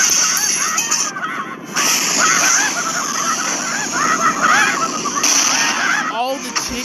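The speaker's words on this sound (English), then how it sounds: "All the chickens." Cartoon chickens squawk and honk in a busy, overlapping clamor, mixed with splashy effects and character voices talking throughout.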